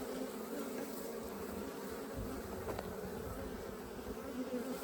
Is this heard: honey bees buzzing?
yes